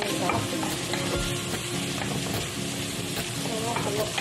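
Salmon frying in cooking oil is stirred in the pan, giving a dense, steady sizzle with intermittent scraping from the utensil, close and fairly loud.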